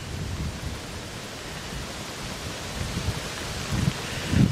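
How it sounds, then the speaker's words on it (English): Heavy rain pours down in a strong gale, a steady broadband wash of downpour and gusting wind buffeting the microphone, with louder bursts near the end and no voices. "It's pouring down with rain. Blowing a gale."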